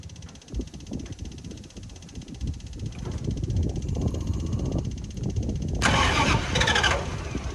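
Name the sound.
engine being started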